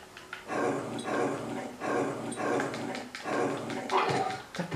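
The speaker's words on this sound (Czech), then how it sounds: "Ještě tady běhají ty pitomí psy!" Dogs growl in a rhythmic series of rough, snarling bursts from the Resident Evil Code Veronica video game, moderately loud with no talk over them.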